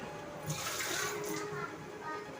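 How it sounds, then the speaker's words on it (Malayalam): Water pours steadily into a cooking pot for about a second with a rushing splash, then tapers off; quiet surroundings, no clear speech. "കുറച്ചും കൂടി ഒഴിച്ചു കൊടുക്കാം കേട്ടോ വെള്ളം"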